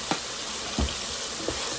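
Paprika frying in a soup pot gives a soft steady sizzle, broken by a few light scraping stirs, fairly quiet with no talking.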